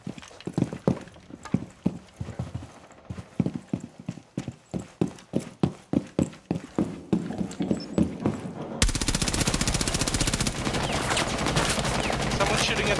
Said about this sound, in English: Someone shooting at the blue bar from window.